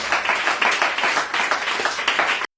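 A church congregation applauding, dense steady clapping from many hands filling the room at close range, then cutting off abruptly.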